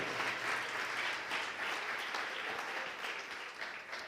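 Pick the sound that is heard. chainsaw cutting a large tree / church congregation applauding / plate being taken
church congregation applauding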